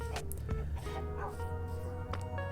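Minecraft dogs being settled into a new home in the video game give short yips and whimpers in a few brief bursts, mixed with game sounds and light background talk.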